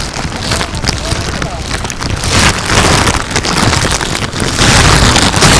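Heavy rain pours on the hilltop of Bayanaka Hosahalli Betta, a loud, continuous roar of drops with gusty wind buffeting the microphone and voices faintly mixed beneath.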